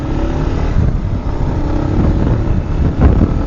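An engine hums steadily nearby, with a low rumbling drone and a slight swell near the end, like a small motorcycle idling or passing, in Labrador, Canada.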